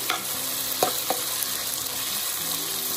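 Onions frying in oil in a pan, a steady close sizzle broken by a few sharp stirring taps near the start.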